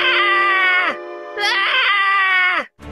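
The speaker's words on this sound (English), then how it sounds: "Everyone ran in the direction of the screams." A man screaming in terror, two long loud strained howls with a brief gap between, close and harsh, as in a dramatized reading of a treasure-hunt story on a hillside.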